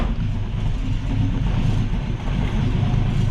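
A restomodded 1965 Ford Mustang engine idles steadily close by with the choke on, a loud, even low rumble with no revving and no talk.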